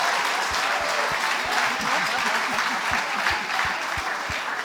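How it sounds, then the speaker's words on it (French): Audience in a church applauding a missionary couple with nine children, a steady wash of many hands clapping at even loudness throughout, with a few louder individual claps standing out. "On peut applaudir 9 enfants quand même."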